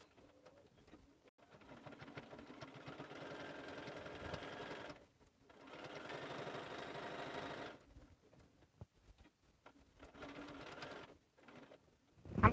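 A sewing machine stitching a lined stocking with a pocket runs in two long, steady bursts of rapid mechanical chatter, then shorter intermittent runs near the end, fairly quiet and with no talking.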